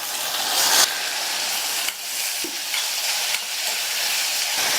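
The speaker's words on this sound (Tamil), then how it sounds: "இந்த வெங்காயம் வதங்கி கண்ணாடி பழம் வரட்டும்." Onions and tomatoes sautéing in a pan with green chillies, a steady loud sizzle with occasional scraping stirs and a sharp clink near the middle, no voices.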